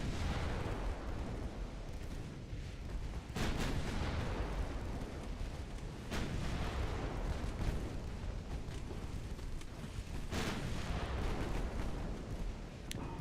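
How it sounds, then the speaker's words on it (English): In Ultimate Admiral Dreadnoughts, 3-inch naval guns fire at a destroyer: repeated heavy booms at irregular intervals over a constant roar of sea and engine noise. "Got our 3-inch guns firing at the destroyer."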